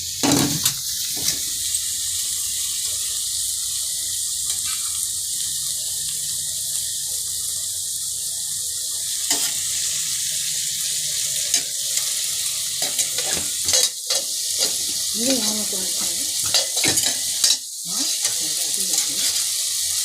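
Chicken masala and chili powder fry in oil, stirred in the pan, giving a continuous sizzling hiss broken by scraping stirs and a few sharp knocks.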